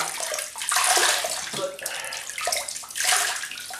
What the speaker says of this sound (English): just wet the face again